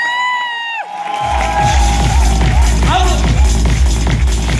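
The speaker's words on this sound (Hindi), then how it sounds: "एक बार जोरदार ताली।" An audience at an Enagic India Kangen Water anniversary event bursts into cheering and shouting after a brief spoken cue, loud and sustained over pounding rhythmic music.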